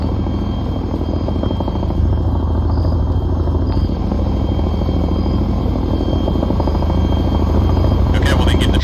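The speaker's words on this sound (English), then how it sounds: "Okay, well then get in the chopper quicker." A helicopter in the military video game Arma 3 drones with a loud, steady rotor thump and engine rumble throughout, with voices talking over it.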